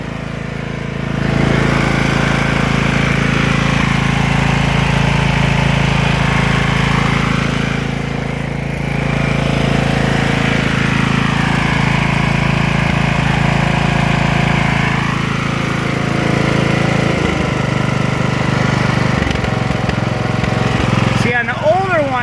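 Continuous loud, steady drone of a John Deere LT1000 riding lawn mower engine idling up close, with a slight dip in pitch midway and a brief clank near the end.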